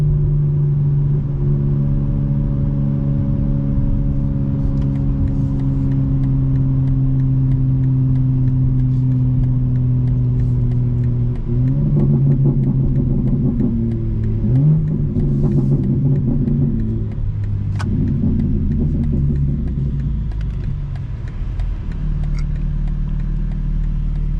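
A tuned 2025 BMW M4 Competition engine idles with a steady low rumble, then revs and climbs in pitch several times, close and fairly loud, with no talking.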